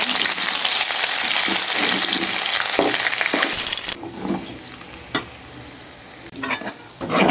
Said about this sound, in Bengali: এখন আমি কাঁচা বাদাম বেটে নিয়েছি, এগুলা আমি ভেজে নেব।